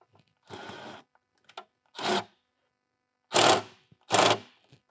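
Four separate bursts of scraping, ratcheting mechanical noise, each about half a second, with short pauses between them, close and fairly loud, as an intake filter hose clamp is tightened on a 2020+ Shelby GT500.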